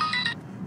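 A telephone gives a short electronic ring, one bright tonal burst that stops abruptly after about a third of a second, followed by quiet room noise.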